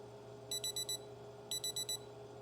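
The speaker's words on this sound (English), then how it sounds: "Our alarm went off." An alarm clock in the Project Zomboid video game goes off with two quick bursts of four shrill electronic beeps each, clear over a faint background hum.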